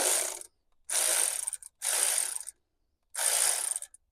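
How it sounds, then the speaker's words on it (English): Four bursts of an electric ratchet with a 12 millimeter socket whirring and clicking, each about half a second to a second long, separated by short silences, while the thermostat is replaced on a 2020 Kia Sedona. "I got my handy dandy 10 millimeter socket right here, my electric ratchet"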